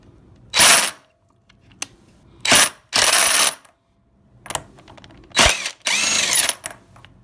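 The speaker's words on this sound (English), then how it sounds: "Now you want to take this nut off using the impact driver." An impact driver zaps off the sprocket retainer nut on a Kawasaki ZX motorcycle in short loud hammering bursts, six of them with brief gaps, plus small metallic clinks in between.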